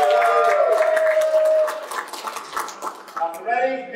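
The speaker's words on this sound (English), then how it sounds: "Let's hear an applause for these" An audience at a Bartitsu performance applauds in a scattered, moderate round, with voices mixed in over the claps.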